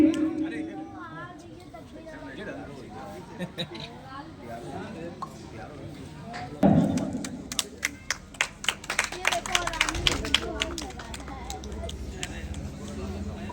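Crowd applause at a welcome ceremony during a public celebration of Dr. B.R. Ambedkar's 134th birth anniversary. Talk and background murmur come first, then loud clapping bursts in with sharp, scattered claps that continue under voices.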